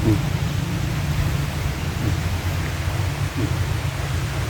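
Steady rain falling during Typhoon Kristin in a rural provincial setting, a continuous dense hiss with low rumbling underneath that holds even and loud throughout, with no distinct breaks.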